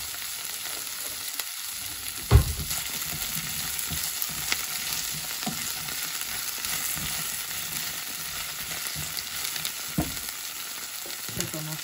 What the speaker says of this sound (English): Gonna saute it down.